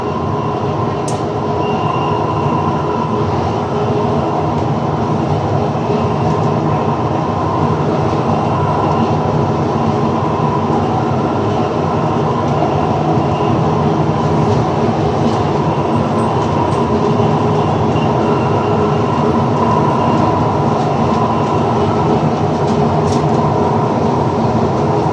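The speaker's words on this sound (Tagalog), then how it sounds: "Ang train na ito." Riyadh Metro train in motion, heard from on board as a loud, unbroken rumble and hum lasting the whole stretch, with faint rattles and clicks over it and no talking.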